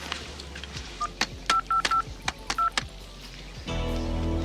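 Telephone keypad being dialed, a quick series of crisp touch-tone beeps in an uneven rhythm, followed by a steady tone on the line.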